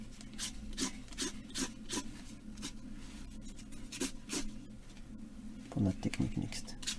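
Posca paint marker scratching and rubbing across paper while adding grain to a mixed-media drawing, a series of quick, soft, close strokes in an irregular rhythm, with a few heavier scrapes near the end.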